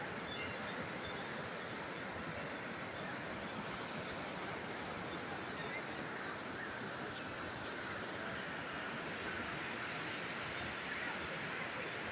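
A Nepali mountain stream flows steadily and loudly, a dense continuous rush of water with no break, close and even throughout.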